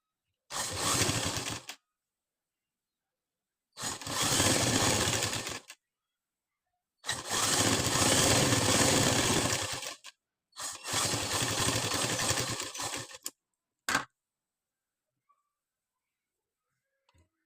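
Sewing machine stitching hook tape onto a blouse, running in four loud, close bursts of rapid mechanical whirring separated by silent pauses, ending with a short final burst.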